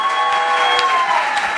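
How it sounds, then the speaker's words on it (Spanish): Studio audience applauding on a Spanish talk show, a close, loud burst of many hands clapping that holds steady across the moment. "Madre mía, qué recepción, como aplauden."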